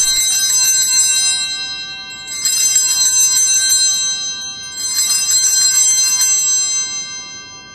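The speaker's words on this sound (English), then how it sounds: "at that moment, the altar server rings the bell again" An altar bell is rung by a server during Mass, three bright, ringing shakes of about a second and a half each, spaced with short pauses and left to decay, loud and close with no talking.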